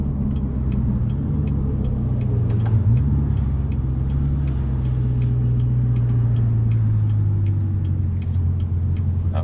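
Chevrolet Corvette C7 with a 6.2L V8 and MBRP dual split rear axle-back exhaust in track mode, cruising on a highway. A steady deep exhaust drone with a low rumble holds throughout, and the pitch shifts slightly as the revs change.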